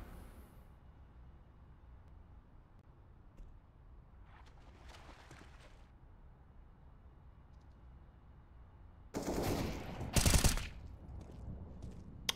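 Gunfire in Counter-Strike during an IEM Dallas 2022 qualifier match, Eternal Fire vs FastPay Wildcats: a quiet stretch broken by a faint burst midway, then a loud, dense volley of shots near the end.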